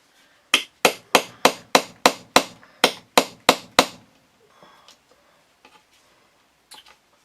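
About a dozen sharp, evenly spaced hammer blows ring out in quick succession while a homemade slingshot is being built, each strike loud and close with a brief decay, then the work falls quiet with only faint small knocks.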